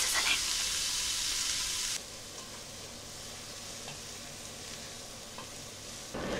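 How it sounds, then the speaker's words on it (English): Onions hiss and sizzle steadily in a hot pan, loud at first, then settling into a softer, continuous crackle. "Onions are going in and can you hear them sizzling?"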